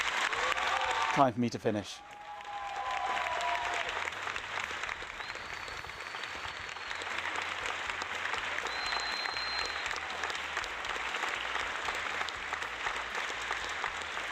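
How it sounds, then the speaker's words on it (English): Long, steady applause from an audience at the end of a talk on retro computing emulation. A brief spoken line comes first, then sustained clapping continues at an even level throughout. "God, it goes on a bit, doesn't it, this applause?"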